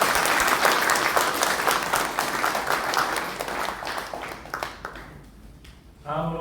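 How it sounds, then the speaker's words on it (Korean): An audience claps loudly at the launch meeting of the New Zealand council of the Peaceful Unification Advisory Council, the dense applause fading gradually before a voice speaks at the end. "다 같이 큰 박수 부탁드리겠습니다"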